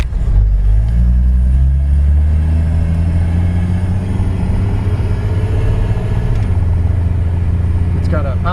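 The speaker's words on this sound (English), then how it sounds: "This car drives really nicely." A 1955 Chevrolet Bel Air four-door with its original six-cylinder engine and Powerglide automatic drives along, a loud steady low engine rumble rising gradually as it pulls, heard from inside, with a brief high squeak near the end.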